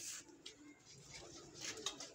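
Soft pigeon coos murmur quietly, with faint chirps and light background noise; no talking.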